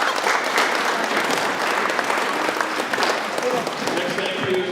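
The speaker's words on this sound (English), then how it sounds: "So big applause for them, please." Steady, sustained audience applause fills a school basketball awards night, a dense wash of many clapping hands at close range that continues without break.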